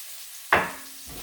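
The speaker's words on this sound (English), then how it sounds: "then you're going to dump in the mushrooms" Mushrooms are dumped into a pan with seared chicken, landing in one sudden loud burst of sizzling that quickly settles into a quieter frying hiss.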